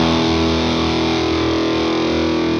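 An electric guitar through a stereo delay set to eighth notes at about 20% mix, with a sustained distorted chord ringing steadily and evenly, loud and close with no voices.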